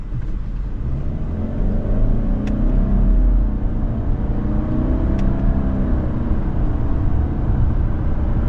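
Subaru Legacy Sport with a Lineartronic CVT pulling up to speed, a smooth steady engine drone with rising whirring tones and road rumble heard from inside the cabin, no voices.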